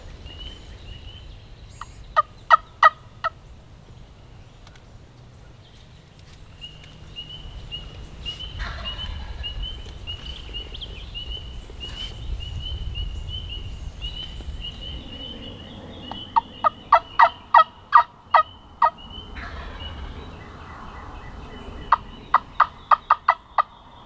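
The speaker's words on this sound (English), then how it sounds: "That bird just gobbled." A wild turkey gobbles in the woods during a hunt in a new area, several sharp rattling gobble bursts at moderate distance, separated by quiet stretches of soft ambient background.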